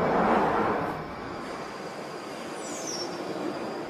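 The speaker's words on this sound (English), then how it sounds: "Train's ready to leave." A London Underground tube train pulls out of a station: a rumbling roar that surges and then settles into a steady rolling drone, with a faint high squeal from the wheels partway through. No one speaks.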